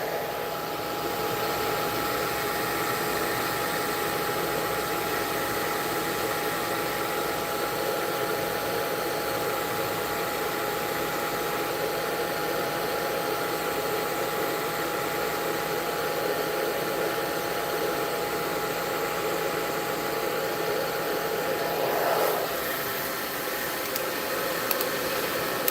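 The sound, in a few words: heat gun running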